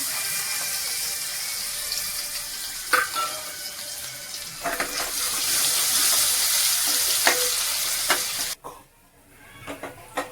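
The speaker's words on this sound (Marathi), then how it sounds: "आता आपला कांदा भाजलेला आहे। ह्यात मी 6 चमचे तेल घातलेलं आहे।" Chopped onion fries in about six spoons of hot oil for a spicy mutton curry, giving a steady bright sizzle with a few sharp stirring clinks. The sizzle cuts off abruptly near the end, leaving near quiet.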